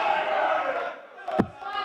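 A darts crowd roars and cheers for Luke Littler at the MODUS Super Series finals, a broad sustained swell of voices with a sharp shout spiking near the end before the din settles back.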